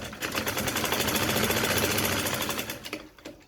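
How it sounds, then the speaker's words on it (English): A sewing machine double-stitches the front pocket of a trouser, a loud, fast, even mechanical rattle that runs continuously before slowing and stopping at the end. "the first place you stitch is here. You double stitch it, right?"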